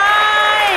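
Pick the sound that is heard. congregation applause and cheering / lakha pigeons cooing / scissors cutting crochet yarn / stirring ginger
congregation applause and cheering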